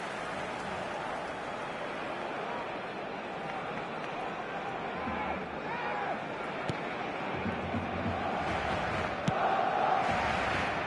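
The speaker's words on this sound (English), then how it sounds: "The crowd reaction tells you just how close that was." Stadium crowd in the eFootball video game, a steady, unbroken roar of massed voices that swells slightly toward the end, with a couple of sharp clicks near the close.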